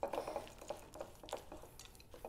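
Sticky banana protein cookie dough being stirred with extra dry ingredients in a bowl, giving a string of soft, close scraping and clinking strokes in an uneven rhythm, with no voices.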